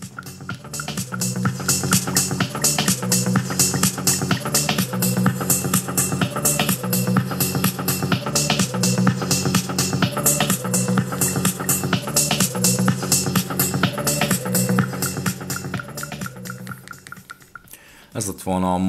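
Music plays at maximum volume through a Jawbone Mini Jambox portable Bluetooth speaker, a steady rhythmic track with a regular beat that fills the whole stretch before cutting off near the end.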